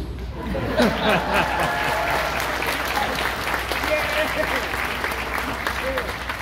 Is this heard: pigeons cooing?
no